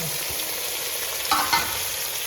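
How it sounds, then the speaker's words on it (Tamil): Carrot, potato, green peas, beans and tomato fry together with onion in a hot pan, giving a steady close sizzle with a couple of brief stirring clatters partway through. "இப்போ வந்து கேரட்டு உருளைக்கிழங்கு பச்சை பட்டாணி பீன்ஸு தக்காளி பழம் எல்லாம் ஒன்றா போட்டுக்கிறேன்"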